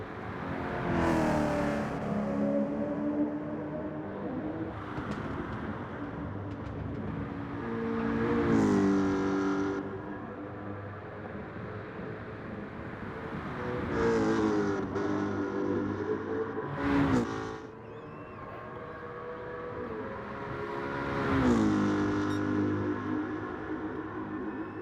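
V8 race cars roar around a Tokyo circuit in Gran Turismo 7, engines droning steadily with repeated revving climbs and gear shifts as cars pass close by, loud and continuous with no voices.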